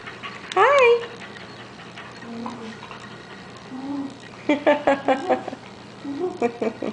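A dog whimpers and whines in short, high, wavering bursts, close by, with soft breathy sounds between them.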